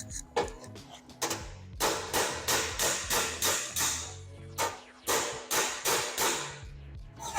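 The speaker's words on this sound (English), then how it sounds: "I'm going to hit it from the backside out against a flat dolly." Sheet metal weld seam on a roadster hood or cowl hammered against a flat dolly: a steady series of sharp, close metallic blows at an even rhythm after a few lighter taps.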